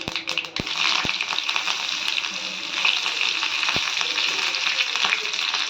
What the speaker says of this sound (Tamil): இப்போ கடுகு போட்டுக்கலாம். இப்போ கருவேப்பிலை போடலாம்.